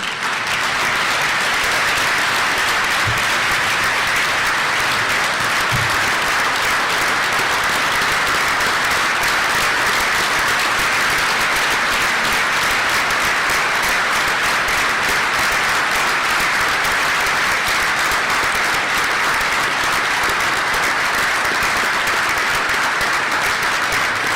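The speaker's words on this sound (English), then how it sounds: "I'd just like the Boyd family to stand up so we can give them, the Gold Star family, a round of applause" A dinner crowd at an awards banquet gives a long, sustained round of loud, dense applause for a Gold Star family, unbroken and even throughout.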